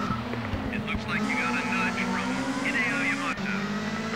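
A touring car engine in the PlayStation racing game TOCA World Touring Cars revs and shifts pitch steadily throughout, with a brief screech of tyres, under someone talking casually over the gameplay.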